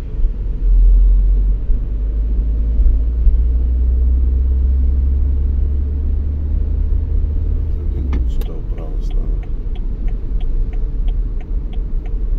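A car idles and rolls through a busy Sunday car park with a low steady engine rumble up close, then the engine cuts and a series of faint regular ticks follows, with voices nearby.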